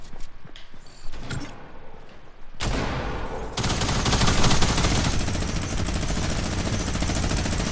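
Tac SMG fire in Fortnite comes through as loud bursts, which give way to a dense, continuous stretch of rapid shots that grows louder partway through and holds steady to the end.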